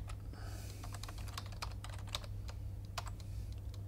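Personal details typed on a PC computer keyboard: a steady run of quick, crisp key clicks with uneven rhythm over a low constant hum, no talking.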